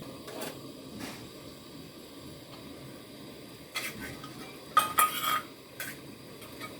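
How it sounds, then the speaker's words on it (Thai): Bamboo shoot curry is stirred in a pot, with soft scraping and scattered metallic clinks of a utensil against the pot, a few sharper knocks near the end, over a faint steady hiss. "คนให้มันเดือดเท่ากัน คนให้มันสุกเข้ากันเท่าจังใจ"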